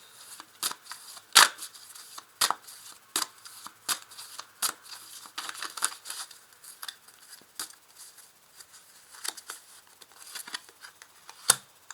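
Tarot cards being shuffled and added to a spread, with crisp papery flicks and snaps in an uneven rhythm, close-up and moderately loud, with occasional sharper slaps as cards land.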